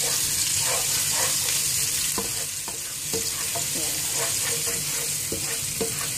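Onion and garlic sautéing in a pan for Korean udon noodles: a loud, continuous sizzle with scattered spatula scrapes and taps against the pan, no voices.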